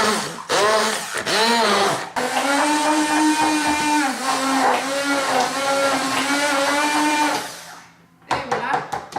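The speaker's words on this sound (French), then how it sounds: "je vais prendre mon malaxeur à la main. J'ai mis les fraises dedans" Hand blender whirring steadily as it purées strawberries with cottage cheese in a small container, a loud continuous motor drone with shifting pitch for about seven seconds, briefly stopped and restarted at the start and ending in a few short bursts.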